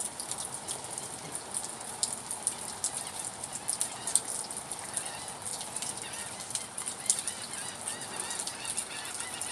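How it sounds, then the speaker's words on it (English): Seagulls call faintly in the distance from a garden, their brief cries scattered over a steady hiss of rain-like background noise. "Seagulls."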